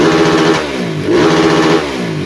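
A big bike motorcycle engine revs hard, loud and close, swelling twice with a steady rumbling drone between the surges and no talk over it.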